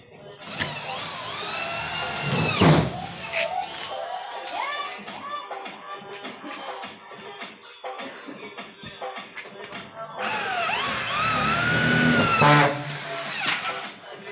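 A drilling machine drives self-drilling screws into fiber cement board on a light gauge steel frame building site, with two loud rising whine bursts near the start and end and quieter clatter and tool noise between.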